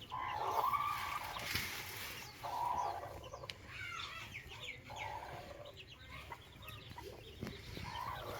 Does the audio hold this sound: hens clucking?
yes